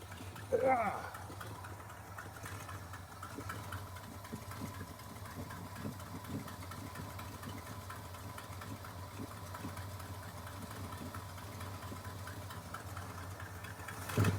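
A 1979 Ford F-150 pickup with a Chinese carburetor idles with a steady low engine note throughout, faint and even, with a brief clunk near the start and end.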